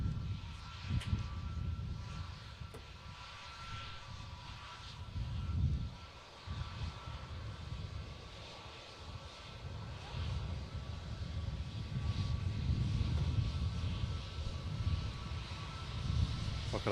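Airliner jet engines rumble at Manchester Airport, a steady, distant low roar that swells gradually toward the end, with faint voices in the background.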